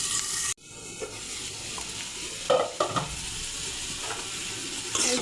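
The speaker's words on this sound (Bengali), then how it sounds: "আগে আলু একটু ঢাকনা দিয়ে ভালো করে ভেজে নেব।" Cut potatoes fry in hot oil with cumin and bay leaf in a pan with a lid. A close, continuous sizzle is broken by a sharp clatter early on and a few louder spatters and scrapes.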